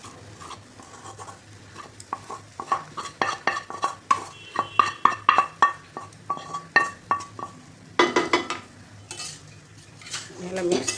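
Cooked rice stirred into melted jaggery in a metal pot, with a steady run of rhythmic spoon scrapes and clinks against the pot and a soft sticky squelch between strokes, close and fairly loud.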